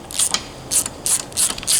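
A ratchet tightening 8 mm Allen head bolts on a CFMOTO ZFORCE front bumper gives five quick, close clicking bursts in an even rhythm, with no talk.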